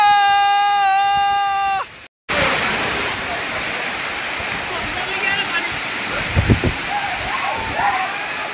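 Heavy water pours down the Zenith waterfall in Khopoli as a loud, continuous broadband roar, briefly cut by a gap. A short tonal sound precedes it, and voices are faintly mixed into the rush.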